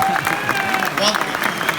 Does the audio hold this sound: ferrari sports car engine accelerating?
no